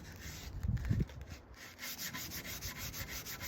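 Sandpaper rubs over wood in short back-and-forth scrapes, a heavier burst of sanding early on followed by a steady rhythmic series of softer strokes, close and unaccompanied by talk.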